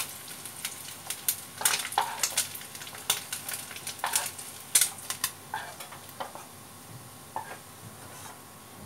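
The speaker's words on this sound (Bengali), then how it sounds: "এভাবে মাছগুলো উল্টে পাল্টে আমি ভেজে নেব" Small mourala fish frying in hot oil, turned over in the pan, with a continuous sizzle and uneven, spiky bursts of spattering and utensil scraping, close and fairly quiet, no speech.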